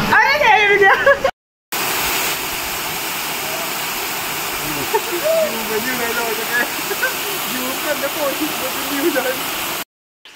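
A waterfall in Uttarakhand near a cave temple, where people have been bathing, roars as a steady broadband rush throughout, with voices and shouts over it and a brief cut partway.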